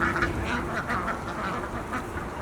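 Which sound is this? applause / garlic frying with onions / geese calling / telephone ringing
geese calling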